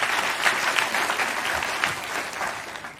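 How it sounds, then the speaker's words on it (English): A crowd applauds a guest at a talk on personal growth and overcoming languishing, producing dense, sustained clapping at a fairly loud, even level throughout, tapering slightly at the close. "Round of applause."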